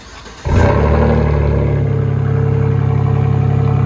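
A 2021 Chevy Silverado with a 4.3L V6 and a Dynamax race bullet exhaust roars to life and then holds a loud, deep, steady throb close by, after a quieter lead-in.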